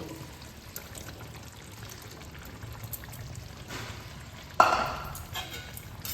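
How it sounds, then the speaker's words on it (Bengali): Fried cauliflower pieces for a Bengali vegetarian cauliflower and potato curry tumble into a pot of boiled potatoes, a single soft splash-and-clatter about two-thirds through, over quiet kitchen background. "এবার আমি এখানে যে ভেজে রাখা ফুলকপিগুলো এর মধ্যে দিয়ে দেব।"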